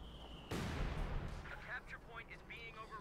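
Artillery barrage strikes in the World War II strategy game Company of Heroes 2, a sudden loud blast at half a second followed by rumbling debris and scattered smaller impacts, with faint game effects trailing off.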